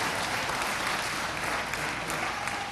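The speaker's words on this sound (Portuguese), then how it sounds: "Levanta sua mão, aplauda ao Senhor." Church congregation applauding together during a worship service, a dense, steady wash of clapping that fills the space without pause.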